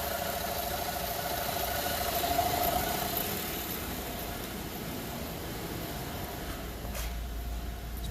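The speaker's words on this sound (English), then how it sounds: "you can definitely hear it rattling" A 2011 Chevy Traverse 3.6L V6 idles with a faint, steady rattle and low hum close by. A soft, even mechanical drone continues throughout, with no talking.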